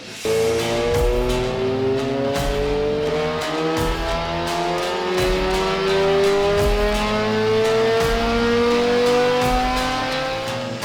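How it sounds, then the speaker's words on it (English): A supercharged Lotus engine revs steadily upward on a dyno with a rising supercharger whine, held at high revs for several seconds, close and continuous, with no voices. "hearing a Lotus XGS supercharged on the dyno"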